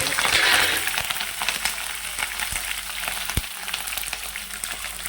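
Curry leaves and coriander sizzling in hot oil in a pan, frying steadily with crackling pops and a louder spitting burst at the start, close and alone without voices.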